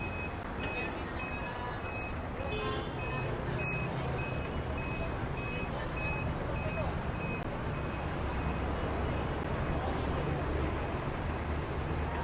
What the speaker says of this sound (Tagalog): may mga truck, may mga private vehicles, may mga nakataxi, may mga nakamotor din dito